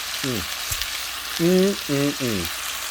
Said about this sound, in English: We're going to pan sear on this side